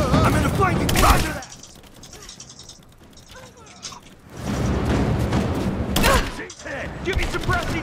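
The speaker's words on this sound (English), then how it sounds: "Laying down cover fire!" Gunfire in the Rise of the Tomb Raider video game, loud rattling bursts of shots in two main volleys separated by a quieter stretch of clicking and mechanical noise.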